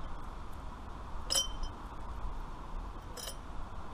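Small metal hardware such as nuts, bolts and screws clinks in two brief bright bursts, one early and one late, over a low steady background hum, all from a classic Mini restoration.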